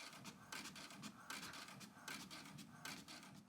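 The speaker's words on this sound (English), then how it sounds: "I'm gonna go ahead and print this pattern now" An inkjet-style home printer running off a sewing pattern, a quiet close mechanical whir that repeats in rhythmic passes about every three quarters of a second, with scratchy carriage sweeps and no voices.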